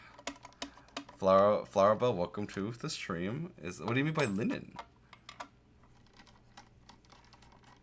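Computer keyboard keys tapped in short scattered clicks, close and light, running under and after someone speaking.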